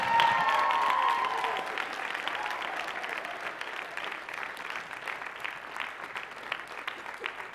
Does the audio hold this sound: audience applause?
yes